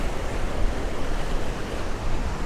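Steady, dense roar of ocean surf washing against the shore, a continuous broadband wash with gentle swells in loudness and no distinct breaks or voices.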